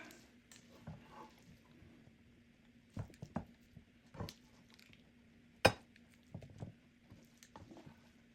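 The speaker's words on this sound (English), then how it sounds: "Now I'm going to transfer the sauerkraut mixture into this baking dish." Sauerkraut mixture for pork baby back ribs being moved into a baking dish: soft clinks and scrapes of utensil against dish, with occasional sharper knocks over a low steady hum, quiet and close.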